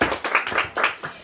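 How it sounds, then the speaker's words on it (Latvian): A small audience claps for the mothers, a short burst of quick, close handclaps with a few uneven peaks, brief and fairly loud. "Gudrajām mamām aplausi."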